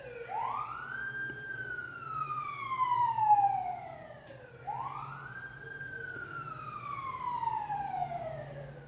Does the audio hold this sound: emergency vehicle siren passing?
yes